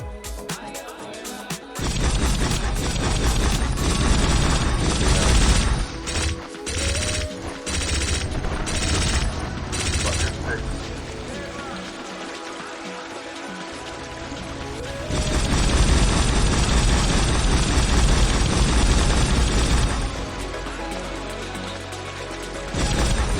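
A monster truck end boss in a video game gets destroyed amid a dense, sustained barrage of rapid gunfire-like bursts, booms and crashing debris, loud and nearly continuous throughout.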